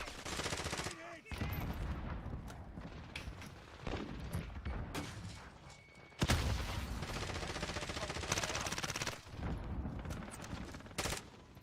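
Gunfire in the Battlefield 2042 video game, with rapid automatic bursts and single shots crackling in clusters, separated by brief gaps and punctuated by a heavier blast near the middle.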